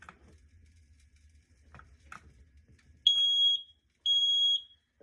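A Kidde micro smoke detector with a 10-year battery sounds two loud, high-pitched electronic beeps about a second apart after a few faint clicks and handling noises.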